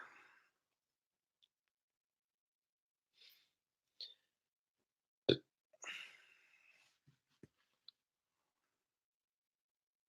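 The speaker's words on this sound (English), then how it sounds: "I always have the burps." Short, gulping burps from one person, scattered across a mostly quiet stretch with a sharper one in the middle and a few faint clicks and breaths between them.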